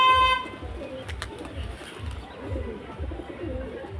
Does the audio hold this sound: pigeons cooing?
yes